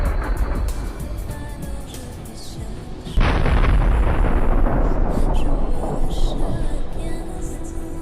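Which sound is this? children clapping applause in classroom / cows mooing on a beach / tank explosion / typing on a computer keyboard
tank explosion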